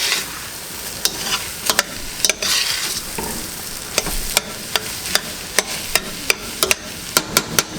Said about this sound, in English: I'm going to let that flour cook down just a little bit. The stove is hot.